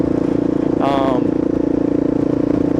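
Kawasaki KLR motorcycle engine idles close by with a steady low thumping rumble, rising in a brief throttle blip near the start before settling back to idle.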